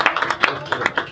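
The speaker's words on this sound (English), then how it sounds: "can you please clap for this one?" Audience clapping at a talk in Calgary, a short burst of scattered, rhythmic hand claps at moderate distance, roughly six distinct claps in about a second.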